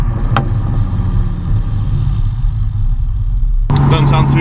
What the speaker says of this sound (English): Usually straight pipe cars sound terrible.